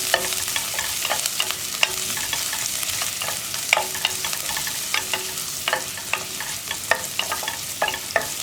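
Onion sautéing in a pan: a steady, close sizzle broken by frequent sharp scrapes and clicks of stirring, with no voices.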